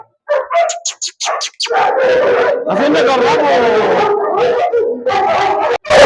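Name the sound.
dog barking and howling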